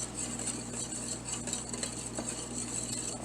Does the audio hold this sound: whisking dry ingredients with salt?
yes